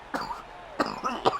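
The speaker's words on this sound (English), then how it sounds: "Apologize for my coughing fit there" A man has a coughing fit, with three sharp, close coughs spaced unevenly apart, each followed by a short raspy breath.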